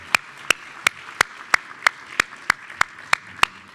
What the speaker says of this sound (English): Let's give Sally another round of applause.